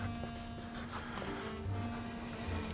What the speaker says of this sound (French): je dessine un des personnages de la BD